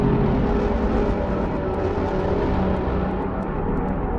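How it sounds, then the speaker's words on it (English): A dense, gritty, distorted synth tone from the dirty filter mode of the u-he Hive 2 synthesizer drones steadily and loudly throughout, with a harsh buzzing texture and no pauses. "almost get that nice, almost distorted kind of sound on the dirty one"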